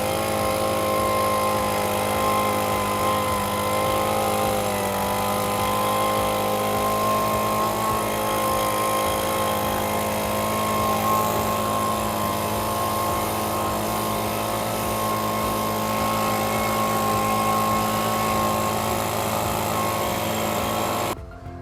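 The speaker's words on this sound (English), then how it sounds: "after we blow it off with this leaf blower" A leaf blower blows dust off a Space-Ray LoPro brooder, giving a loud, steady motor whine with a constant rush of air that holds for about twenty seconds before cutting off abruptly.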